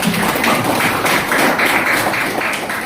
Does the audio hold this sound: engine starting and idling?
no